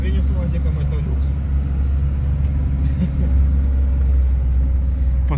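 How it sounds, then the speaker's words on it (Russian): An off-road vehicle's engine drones loudly and steadily while driving on a road at the opening of an off-road season, with a low rumble throughout and voices talking over it. "Хорошо мотор работает. Шумно, правда, немножко."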